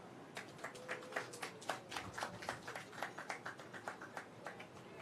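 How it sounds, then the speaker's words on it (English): Audience applause at a handing-over ceremony for a coastal project in Annotto Bay, Jamaica: a fairly faint, steady patter of many hands clapping, sounding somewhat distant, continuing through the whole stretch without talk. "Can we get a better round of applause for Nina?"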